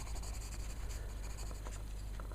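A dark blue pencil crayon scratches steadily across paper while colouring in a zombie clown's hair, a continuous close, soft scratchy texture with no pauses.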